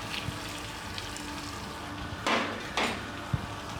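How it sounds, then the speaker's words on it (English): Onions cooking in a pan with cinnamon, cloves, black and green cardamom, a low background sizzle with two brief bursts of louder hissing as they are stirred, plus a soft knock near the end. "we're going to cook the onions till they brown up"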